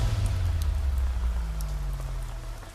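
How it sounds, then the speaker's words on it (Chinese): Rain falls in a steady, soft patter over a low rumbling background, unbroken for the full few seconds. "而且还在下雨天"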